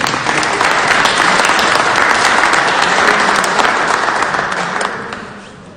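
A crowd applauds two partners at a TSF prize draw, loud dense clapping that holds steady for several seconds and then fades out at the end.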